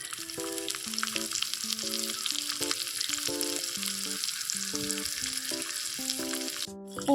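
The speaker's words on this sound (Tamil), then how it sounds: "வெங்காயம் போட்டுக்கலாம்." Steady hiss of onions frying in hot oil with mustard seeds, dal and fennel, a continuous close sizzle running under background music, with a sharp clatter near the end.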